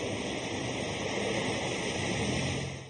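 Torrents of floodwater rush steadily after heavy late-April rain in the Hermel area, a continuous loud roar of churning water with no pauses and no voices.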